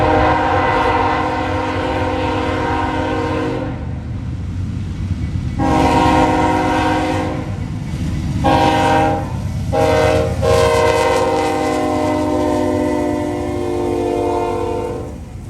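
A freight train rolls past near a line in Ohio, loud and close, its horn sounding in several long blasts with brief breaks over the steady rumble of the cars.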